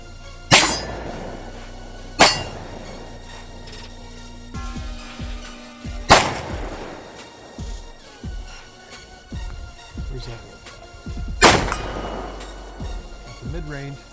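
Pistol shots at a shooting range, heard as four loud, sharp blasts spaced a few seconds apart, close and echoing, with people talking between the shots.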